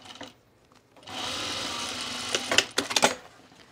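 A sewing machine runs a quarter-inch seam in one steady whirring burst of about a second and a half, followed by a few clattering stops and starts.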